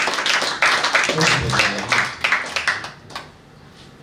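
Scattered applause and clapping from an audience at a church revival service, irregular bursts of hand claps that fade toward the end, with a voice speaking briefly among them.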